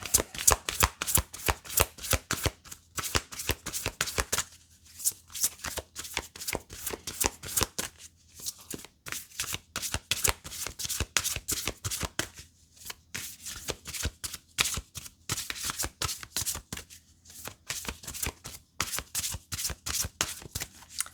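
A Druid Animal Oracle card deck is shuffled by hand in repeated riffling bursts of crisp flicking cards, close and steady, with short pauses between rounds.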